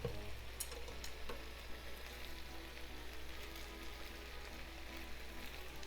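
Chicken frying in a covered pan, a faint, steady hiss and soft crackle muffled by the lid, continuous and even with no talking.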